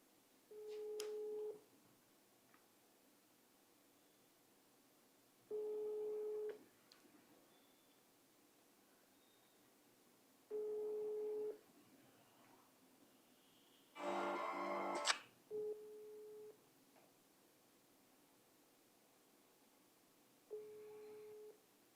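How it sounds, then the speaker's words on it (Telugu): Unanswered outgoing phone call with a repeating ringback tone, steady single pulses about every five seconds, fairly faint and without talk, broken once by a brief louder burst of noise. "మీరు కాల్ చేస్తున్న వ్యక్తి సమాధానం ఇవ్వడం లేదు, దయచేసి మళ్ళీ ప్రయత్నించండి."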